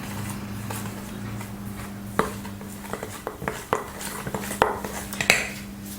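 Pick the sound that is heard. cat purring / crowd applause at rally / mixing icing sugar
mixing icing sugar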